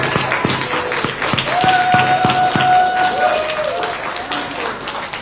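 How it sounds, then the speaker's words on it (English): An audience at a press conference applauds Michelle Yeoh after her Oscar win. Scattered claps stand out over crowd murmur, with voices talking through it. "Round of applause to Michelle Yeoh, everyone."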